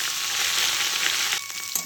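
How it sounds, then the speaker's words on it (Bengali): Boiled cauliflower frying in hot oil: a dense, steady hiss of sizzling fills the pan, close and loud, with a brief clatter of stirring near the end. "ফুলকপিগুলো আমি একটু সিদ্ধ করে নিয়েছি, এবার আমি একটু তেলে ভেজে নেব।"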